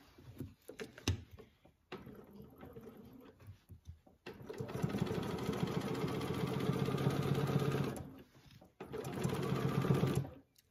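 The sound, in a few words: sewing machine stitching in the ditch while quilting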